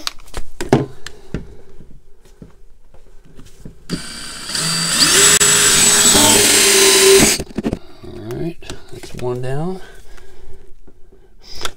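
A drill with a 1.25-inch hole saw bit cuts into a hydroponic reservoir, a loud steady grinding whir of about three seconds, with someone talking before and after.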